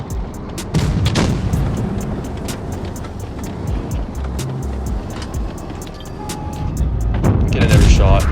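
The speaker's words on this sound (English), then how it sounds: "Now they're shooting the turret" In World of Tanks Blitz, tank guns fire and shells bounce off a Charlemagne's turret, sharp booms recurring over a steady engine rumble, with a louder burst near the end and a voice talking over the action.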